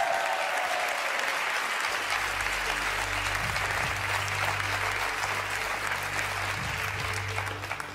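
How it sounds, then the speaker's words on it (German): A studio audience at a German satire show applauds volunteers, a long, even roar of clapping from a large crowd, with a low musical tone sounding underneath. "ein Applaus für die Freiwilligen."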